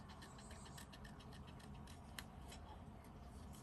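Small scissors snipping a paper hat shape out of a gel-printed card, quiet repeated crisp cuts at close range in an otherwise hushed room.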